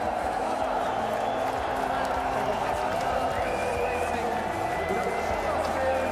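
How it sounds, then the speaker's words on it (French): A crowd cheers and roars continuously at the Austrian Grand Prix podium ceremony, a dense, steady wash of distant voices with a commentator talking over it. "Écoutez la foule."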